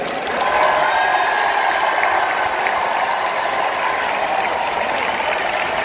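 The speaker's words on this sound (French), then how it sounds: "je vous demande de faire un tonnerre d'applaudissements pour nos volontaires" A packed stadium crowd at the Olympic Games roars with a thunderous, unbroken wash of applause and cheering for the volunteers, loud and steady from start to finish.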